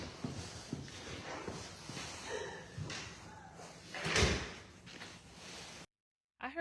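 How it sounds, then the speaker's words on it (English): A door closes somewhere in a home during a livestream, a single thud-like slam standing out over a steady background hum and scattered noise, followed by a short silence. "I heard a door close."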